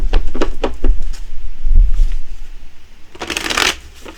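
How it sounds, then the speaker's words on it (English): Tarot cards are side shuffled by hand in a series of quick crisp riffling bursts, close and clear, followed by a louder final rustling flurry. "side shuffle, looking for 3 cards to pop out"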